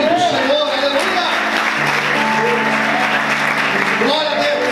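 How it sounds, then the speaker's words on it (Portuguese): A church congregation applauds during a sermon, steady clapping blended with cheering voices and sustained musical tones underneath. "Será que você pode dar um glória a Deus e aplaudir o nome do Senhor?"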